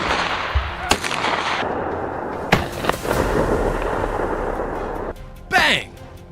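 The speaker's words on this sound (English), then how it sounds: "Bang! The bullet tore through the air with deadly precision, sending the boar sliding across the red earth." Gunshots ring out while hunting wild boar on red earth, several sharp cracks over continuous noise, close and loud, followed by a brief whooshing burst.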